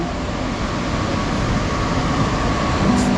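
Albert high-speed train at Tangier station, a loud steady rumble and hum of the train running throughout, with no talk over it.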